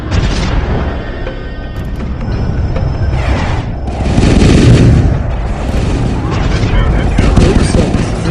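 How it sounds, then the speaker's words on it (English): Homeworld space battle with the mothership under fire: loud, continuous rumbling booms and rapid weapon fire blasts overlapping densely throughout, with game voices talking at moments. "The mothership is under fire."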